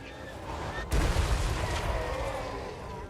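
Hell Cannon artillery fire in the Total War: Warhammer 3 video game: a sudden heavy boom lands just under one second in, followed by a loud rumbling, crackling battle roar that stays dense to the end.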